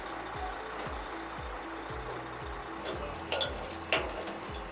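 A highway department sander truck's box being raised hydraulically, producing a steady mechanical drone with evenly spaced low thumping pulses and a couple of sharper clanks near the end.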